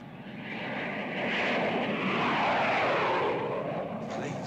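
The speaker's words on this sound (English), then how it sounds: "Planes. How low they're flying." Low-flying airplanes roar overhead in a steady, swelling engine drone that builds and holds loud, heard close and without talk in a vintage sci-fi horror film scene.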